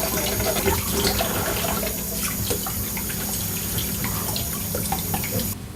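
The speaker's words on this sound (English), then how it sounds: "So you can just rinse them off in cool water." Cool tap water pours steadily over canned beans in a kitchen sink, a constant close rushing and splashing with small drips, cutting off at the very end.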